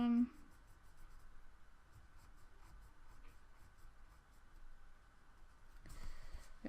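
A pen drawing on card in steady, quiet scratchy strokes that run continuously for several seconds close by, ending in a brief louder rustle as the card is handled.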